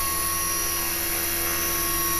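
A rebuilt HK 450 RC model helicopter runs steadily nearby, its rotor and electric motor producing a continuous high-pitched whine with stable buzzing tones and no changes in speed.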